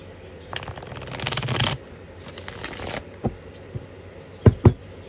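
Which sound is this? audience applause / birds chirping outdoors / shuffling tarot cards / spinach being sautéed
shuffling tarot cards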